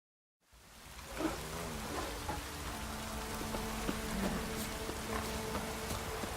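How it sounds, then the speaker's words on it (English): A heavy downpour in The Witcher III drums steadily, with dense patter on surfaces and a constant wash of rain. It starts abruptly after a moment of silence and stays even and full with no voices. "Proper downpour this is."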